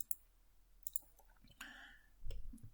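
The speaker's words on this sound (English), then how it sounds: "just by clicking here, double clicking" A few sparse computer mouse clicks, including a quick double click, near and fairly faint against a quiet room with low background noise.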